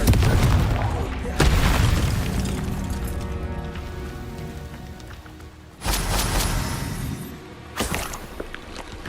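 Confringo explosion spells in a Harry Potter video game, with several loud booming blasts that each fade into a rumbling tail, spaced a few seconds apart, and speech mixed in.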